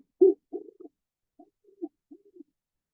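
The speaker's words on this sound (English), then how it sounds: "So the great horned owl" Great horned owl hooting from a played recording: a series of deep, soft hoots in an irregular rhythm, louder at first and then fainter, alone with no talking.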